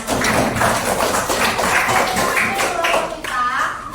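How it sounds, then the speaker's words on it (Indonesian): Primary school class in Banda Aceh clapping hands together, a rhythmic patterned clap with children's voices calling out over it. "Ini tepuk tangan semuanya."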